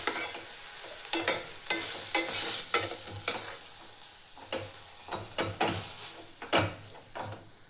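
Dill greens are stirred in a frying pan, with repeated scraping strokes in an uneven rhythm over a soft sizzle, close and fairly quiet.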